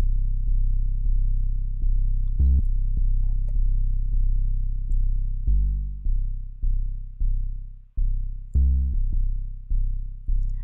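Layered 808 bass programmed in Reason 11 thumps out a steady run of deep, booming notes that shift in pitch, heavy and sustained with each hit decaying into the next, no voices over it.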